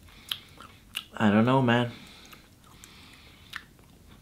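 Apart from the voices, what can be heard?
biting and crunching a Marabou Oreo chocolate Easter egg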